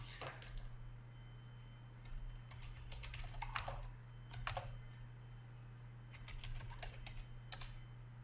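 Computer keyboard typing in quick irregular bursts of clicks, fairly faint over a steady low electrical hum, with no talking.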